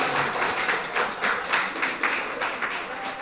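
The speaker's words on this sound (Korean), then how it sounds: "오, 박수로 한번 해주세요." An audience at a church medical-clinic lecture claps in a loose, rhythmic pattern, with repeated bursts of handclaps at a moderate distance that rise and fall in waves.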